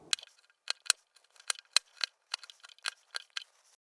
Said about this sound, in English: Use a chisel to sever the fibers near the ends, taking just a little bit at a time.